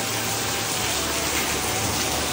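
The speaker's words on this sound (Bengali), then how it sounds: "জাস্ট বৃষ্টি দেখো" Steady, heavy rain pours down in a dense, unbroken hiss, loud and even, with no voices.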